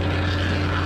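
A stump planer attachment grinds on a TL6R drive unit, giving a steady loud machine drone with a strong low hum that holds unbroken through the short stretch, with no talk over it.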